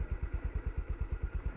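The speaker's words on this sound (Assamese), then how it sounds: "এতিয়া এই বাইকখন ধুনীয়াকৈ ষ্টাৰ্ট দি দিওঁ" A Yamaha MT motorcycle engine running just after starting, a close, steady low thumping rhythm of regular pulses with mechanical clatter, no voices.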